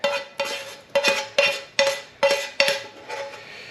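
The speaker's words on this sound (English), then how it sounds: "Give them a mix around." Chopped vegetables are stirred into a frittata mixture in a bowl: a utensil knocks and scrapes rhythmically against the bowl, about eight distinct clinks at a steady pace, close up and alone.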